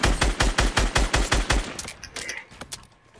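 Rapid automatic weapon fire in the Fortnite battle royale game, a burst of about ten loud, evenly spaced shots followed by a few scattered, fainter shots and impacts.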